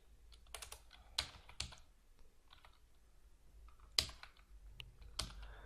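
Code being typed on a computer keyboard: sparse, close key clicks in short clusters with pauses between, some taps sharper than others, in a quiet room.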